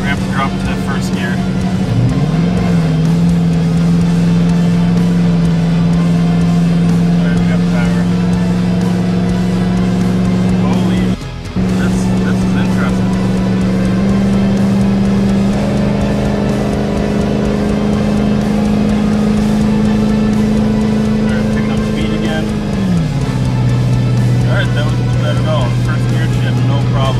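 A diesel Ford F-250 pickup hauling a 35,000 lb load labours slowly uphill at low speed in first gear, its engine droning loud and steady throughout with a brief gear-change dip midway and a pitch drop near the end.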